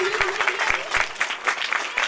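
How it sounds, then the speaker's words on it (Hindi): Loud, steady applause from a congregation honouring a Sunday school teacher at an evangelical children's ministry event, with dense rapid clapping throughout. "जोरदार ताली बजाएंगे टीचर के लिए।"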